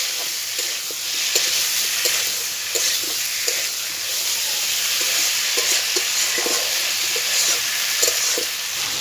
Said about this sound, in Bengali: এটাকে মশলার সঙ্গে আমি ভালো করে কষে নেব তাহলে তরকারি টেস্ট বেশি ভালো হবে